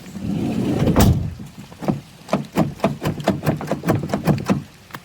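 A heavy van sliding door rumbles along its track, then rattles and clunks through a quick series of knocks and latch clicks as it shuts, slightly janky.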